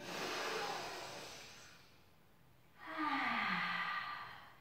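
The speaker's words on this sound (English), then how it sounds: "In through the nose. Out through the mouth." Slow, deep breaths during an intermediate Pilates stretch, one long airy inhale through the nose and then a fuller exhale through the mouth, close and alone with no talk.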